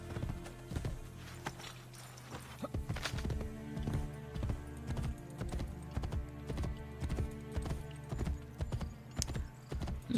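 Horse hooves clip-clop at a steady walking rhythm in Assassin's Creed Brotherhood, loud and close, with a brief whinny early on and game background sounds underneath.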